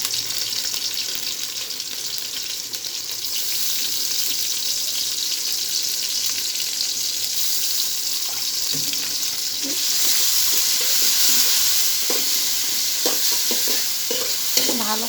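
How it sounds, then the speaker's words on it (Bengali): Spices with ginger and garlic paste sizzle steadily in a hot pan, a loud close frying hiss with scattered stirring scrapes that grow busier toward the end. "ভালো করে মশলাগুলো কষিয়ে নেব"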